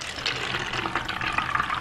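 Tap water pours and splashes into a container in a steady, fairly quiet stream, with bubbly gurgling texture throughout and no voices.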